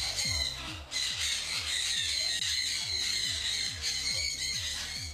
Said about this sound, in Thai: คุณผู้ชมได้ยินเสียงนกร้องไหมคะนี่คือนกแก้วสวยงามนะคะที่อยู่ในกรงค่ะ